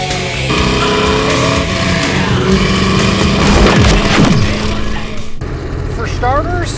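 A 1966 Chevrolet Impala with a crate 350 V8, five-speed and EFI drives along, its steady engine drone carrying throughout with a voice talking over it.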